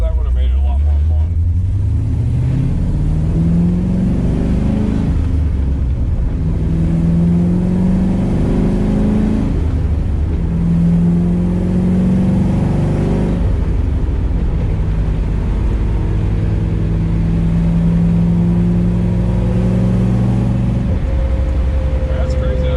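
A Chevrolet Camaro engine pulls hard through high gears on curvy back country roads, a loud droning roar rising in pitch across several long acceleration sweeps, heard from inside the car with voices talking over it.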